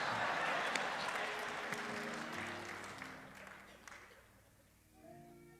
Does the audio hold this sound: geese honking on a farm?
no